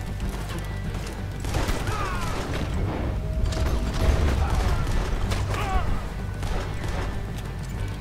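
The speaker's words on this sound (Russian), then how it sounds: "Долго заряжаешь оружие, блин." Red Dead Redemption 2 gameplay: a gun is reloaded with a run of mechanical clicks and clacks mixed into busy game ambience.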